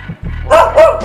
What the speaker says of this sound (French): Y'a un chien!